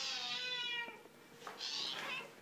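A ragdoll cat lets out two drawn-out, close meows, one right after the other, with no voices over them.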